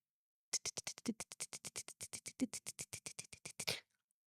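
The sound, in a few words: mayflies pelting a driving car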